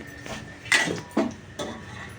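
Fried onions (birista) for biryani are lifted out of a pan with a metal utensil, giving three sharp scraping clinks against the pan at even intervals over a quiet kitchen background.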